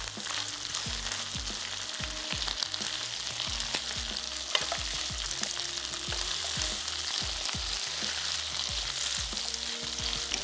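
Beef sizzles loudly in a hot pan as it is stir-fried and tossed into sauce, a constant close frying hiss broken by repeated scraping and clanking of the spatula.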